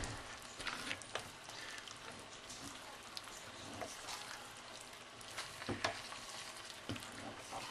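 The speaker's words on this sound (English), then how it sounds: "into my risotto, and then I'm going to stir that all in" A spoon stirs mushroom risotto in a pan, giving faint, soft scraping and gentle bubbling sizzle, with occasional sharper clicks against the pan, low in level throughout.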